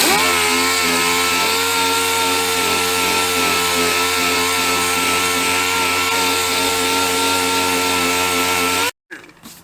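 Power sander grinding away at the old plastic gas tank of a 1985 Honda ATC250R, a loud continuous motor whine with a steady buzzing tone that cuts off abruptly near the end.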